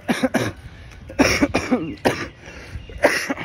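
Several harsh coughs come in quick bursts, a few close together, loud and near, with short pauses between them.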